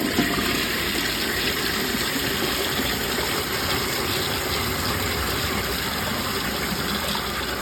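A round Glacier Bay Powerflush toilet with an overfilled tank flushes in one loud, steady rush of water that roars on without a break, close up and alone.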